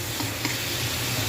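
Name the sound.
dried fish (tuyo) sautéing in a pan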